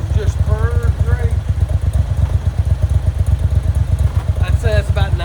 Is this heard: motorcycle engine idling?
yes